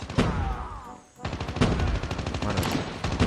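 Rapid automatic gunfire in Call of Duty Mobile comes in sharp bursts of close, loud shots, pauses briefly, then resumes as a fast rattling stream, with faint talk mixed under it.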